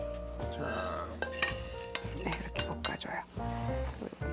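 Carrots stir-fried in a pan for a carrot salad sizzle and scrape as they are tossed, with clinks of a utensil against the pan, while people talk close by.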